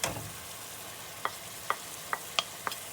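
Tomatoes and spices stirred in a frying pan for chicken tikka masala: a steady sizzle with a row of crisp clicks as the spoon strikes the pan every half second or so.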